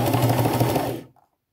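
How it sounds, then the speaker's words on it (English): A sewing machine runs in a steady, close mechanical chatter as it stitches a seam around an old coat, then stops abruptly after about a second. "I'm making another stitch all the way around."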